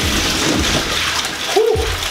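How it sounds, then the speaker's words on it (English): Water splashing and sloshing in an ice bath during a punishment challenge, broadband wet splatter running continuously over two seconds, close and fairly loud, with a brief voice sound near the end. "Stop splashing it."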